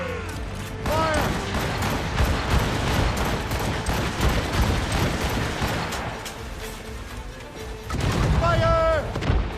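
Repeated ship cannon volleys boom across a naval battle in Assassin's Creed Rogue, dense overlapping blasts with creaking and shouted voices throughout, loud and continuous.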